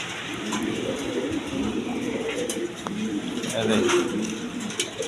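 Breeding pigeons with their chicks cooing in a loft, low soft coos close by over a steady background hum.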